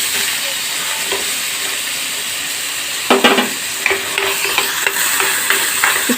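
Chopped onion fries in ghee, sending up a steady close sizzle with occasional stirring scrapes and clatters that grow busier midway.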